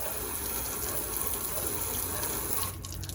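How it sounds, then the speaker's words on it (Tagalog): A garden hose sprays water hard at the tailgate gap of a Toyota Hilux fitted with a tailgate seal kit, a loud steady hiss and gush that cuts off sharply near the end. "So tutukan lang natin ng hose dito sa gap na to."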